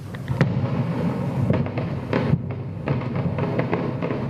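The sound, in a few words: fireworks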